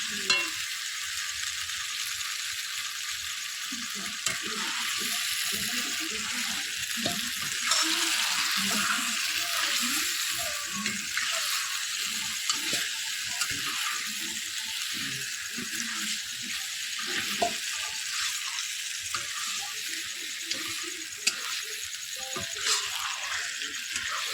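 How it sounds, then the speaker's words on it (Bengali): Meat sizzling and being stirred in a pan, a steady hiss of frying under scraping strokes for the whole stretch, with a little faint speech in the background. "এখানে মা মাংস দিয়ে দিচ্ছে সব আর এটা আমি কষাতে থাকবো"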